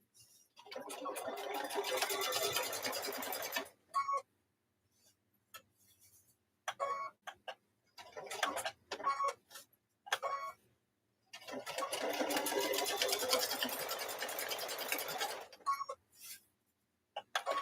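A sewing machine stitches fabric pot holders in several long, steady, close runs separated by short silent gaps and quick start-stop bursts.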